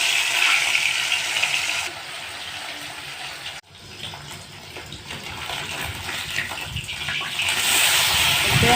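Marinated fish pieces fry in hot oil in a pan, giving a loud, steady sizzling hiss with a brief break partway through before the crackle swells again.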